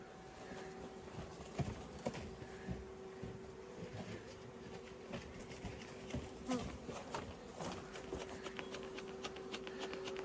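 Honeybees drone steadily in an overfull beehive during a split made on an old queen, a dense continuous buzz close by with faint knocks and rustles underneath.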